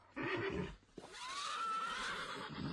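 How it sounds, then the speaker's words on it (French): Horses neighing in panic: one long, loud whinny rises steadily in pitch and carries on for about two seconds after a short burst of snorting. No one speaks. "Et les chevaux paniquent."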